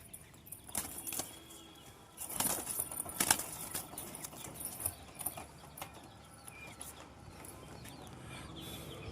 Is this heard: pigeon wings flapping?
yes